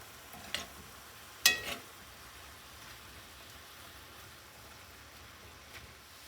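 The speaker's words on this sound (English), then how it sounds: "And I'll give them a stir every minute or so." Apple pieces sauté gently in a skillet for an apple crisp, giving a faint, steady low sizzle with a couple of brief stirring clicks and one sharper scrape early on.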